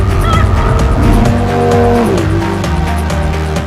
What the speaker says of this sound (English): It's a fantastic sports car.